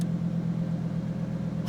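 A Lamborghini Huracan Tecnica's V10 exhaust in Corsa mode gives a loud, continuous low idle rumble, a steady throb with no voices over it.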